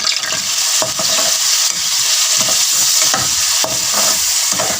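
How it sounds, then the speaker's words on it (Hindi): 250 g of minced beef dropped into hot oil sizzles loudly and steadily, with a bright hiss and occasional stirring scrapes, close up. "अब ये 250 ग्राम हमने कीमा लिया था, ये इस ऑयल में हम डाल देंगे।"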